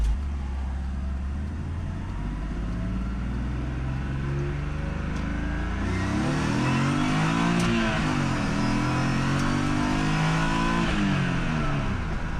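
A BMW E46 with a centrifugal supercharger winds up hard, revs rising and falling through repeated gear pulls, loud and close with a whining, strained tone.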